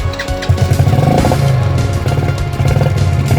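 A quad bike engine starts and revs hard, loud and close, with a rough, throbbing roar and clattering mechanical noise rising and falling throughout, no voices heard.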